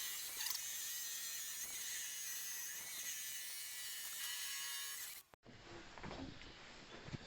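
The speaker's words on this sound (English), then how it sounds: "We are just now boring out the hole." A hole being bored into timber during a central heating installation, a steady grinding and whirring drill sound running close and continuously before cutting off abruptly, with quieter mechanical noise afterward.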